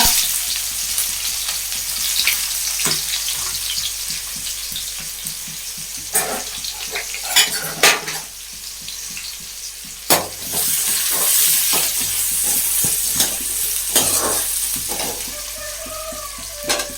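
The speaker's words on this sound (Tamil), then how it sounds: "எண்ணெய் காஞ்சிருச்சு. முதல்ல சோம்பு போட்டிருக்கோம். அடுத்து வெங்காயம் பாருங்க." Fennel seeds and sliced onions frying in hot oil, a steady close sizzle broken by scraping stirs and a few sharp clatters of a ladle against the pan, with no voices.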